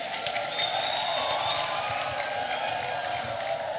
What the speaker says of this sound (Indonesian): Mari berikan aplaus dulu